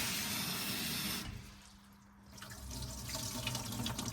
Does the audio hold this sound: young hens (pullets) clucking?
no